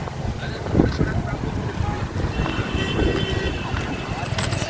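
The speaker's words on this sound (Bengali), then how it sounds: "কি সুন্দর হাওয়া না?" Breeze blowing outdoors near Shyamnagar's vegetable and fish market, a steady rumbling wind buffeting the microphone throughout, with faint background activity and voices underneath.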